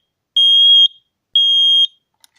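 An X-Sense SD12 smoke detector sounds its test alarm: two loud, shrill half-second beeps about a second apart, close by, followed by a tiny click and silence.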